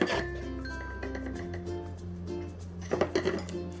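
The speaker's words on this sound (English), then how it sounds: "Whisk up the egg white." Egg white being whisked in a bowl, heard as rapid metallic clinking and scraping of the whisk against the bowl, close and fairly quiet, with a few sharper clinks near the end.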